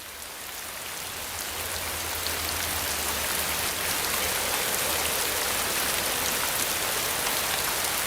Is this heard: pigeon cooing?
no